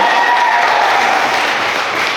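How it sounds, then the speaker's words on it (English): An audience applauds for Muhammad at a speech event, a dense, loud burst of clapping that holds steady and begins to fade slightly toward the end. "So everybody, let's clap for Muhammad."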